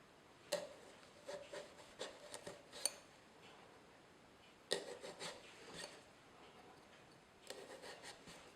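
A knife cutting and sawing through a pumpkin during carving, heard as close, quiet bursts of scraping and rasping strokes in irregular clusters separated by short pauses.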